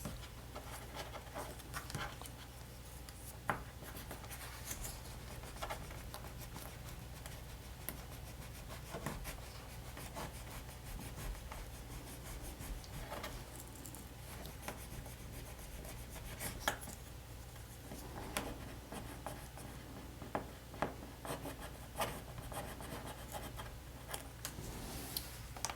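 A highlight sticker is rubbed onto a planner page, producing soft, faint, continuous scratchy rubbing with occasional light taps, close but very quiet over low background hum.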